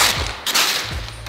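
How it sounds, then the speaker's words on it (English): An Adventure Force Orbeez toy gun firing electronic sound effects, a short burst of two or three loud, hissy synthetic shot sounds in quick succession, close and alone. "It's an Orbeez gun!"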